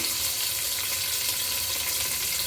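Onion and tomato fry in a pan for a quail curry (kaadai kuzhambu), giving a steady, dense sizzle that holds evenly throughout with no voices.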